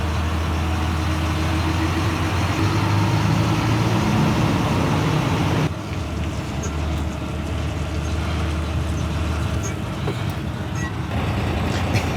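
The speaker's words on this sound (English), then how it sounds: "Terry, does he want me to drive on or reverse it on?" A truck engine runs loudly and steadily, then the tone drops and it settles into a lower, rumbling idle as the truck is driven up onto a trailer, close by with no talk.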